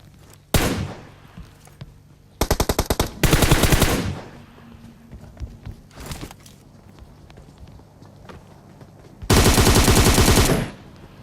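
Several bursts of automatic gunfire from a video game, separated by quieter gaps, with one long loud burst near the end; single shots and footsteps between.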